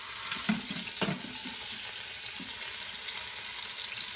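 Pot roast searing in an Instant Pot pressure cooker, a steady broadband sizzle throughout with a few soft knocks of the meat or utensil early on and no talking.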